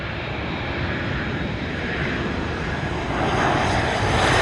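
An airliner on landing approach to runway 25 at Montego Bay's Sangster airport in Jamaica, its engines a steady, broad roar that holds close and loud throughout and swells slightly toward the end.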